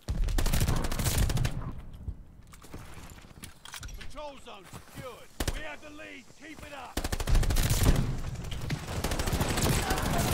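Sten submachine gun fire in a Call of Duty match, with loud bursts of rapid automatic shots at the start and end and a quieter stretch between them, under voices talking.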